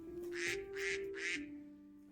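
Ducks in the Minecraft video game give three evenly spaced, nasal quacks in a row, moderately loud, over a steady low game hum, with no one speaking.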